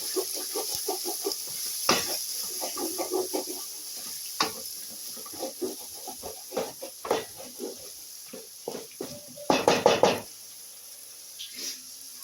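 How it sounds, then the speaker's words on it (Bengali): A spice paste with Kashmiri chilli and turmeric is stirred and fried in a pan, giving a soft sizzle broken by repeated scraping strokes of a spatula, loudest near the end. "দিয়ে আবার মশলাগুলো আমি আরেকবার কষে নিচ্ছি"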